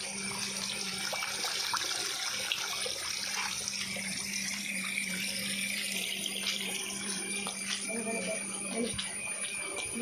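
Heavy water rushes and pours steadily like a waterfall, a loud continuous broadband roar with no breaks, and faint voices may sit underneath it.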